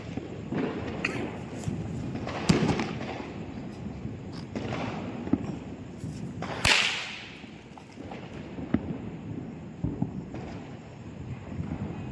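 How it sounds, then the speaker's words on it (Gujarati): Diwali firecrackers burst one after another with sharp, scattered cracks, one especially loud bang trailing off in a hiss, amid outdoor background noise. "દિવાળીમાં ફટાકડા ફોડી લીધા છે"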